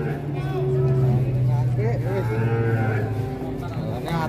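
A rampaging cow lets out a long, low moo close by, with people talking and other farm noise around it.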